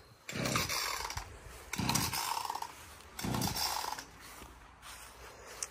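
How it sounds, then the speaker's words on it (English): Massive holly bushes are cut out in a front garden with a chainsaw-like power tool that runs in three separate loud bursts, each a second or so long, with quieter gaps between them. "we are cutting out these massive holly bushes"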